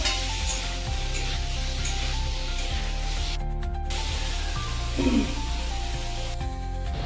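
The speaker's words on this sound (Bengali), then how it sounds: "আলুগুলো কষিয়ে নিয়েছি মশলার সাথে, এখন পনিরগুলো দিয়ে দেবো। পনিরগুলো দিয়ে একটু কষিয়ে নেব।" Potatoes and paneer sizzle and fry with spices in a pan, a steady close hiss with scraping stir strokes and a brief louder sputter near the end, and no voice.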